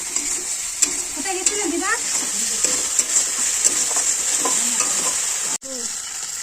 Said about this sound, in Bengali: দিয়ে মশলাটা ভালো করে কষিয়ে নেব। এই যে রান্না হচ্ছে